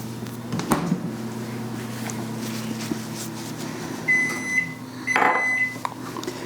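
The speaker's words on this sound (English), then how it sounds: "So I did that for 30 seconds in the microwave" A microwave oven hums steadily while heating butter, then gives a few high electronic beeps near the end, with some clatter of a door or cupboard.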